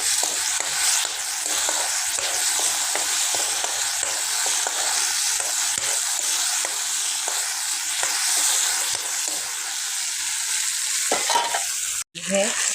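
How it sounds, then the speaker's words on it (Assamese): Spicy Maggi noodles with soy sauce sizzle steadily in a hot pan with a bright, constant crackle, punctuated by scraping stirs; no voices. "এইখিনি অকণমান ভাজি লওঁ।"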